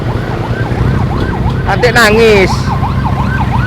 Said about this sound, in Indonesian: ada ambulan kita mundur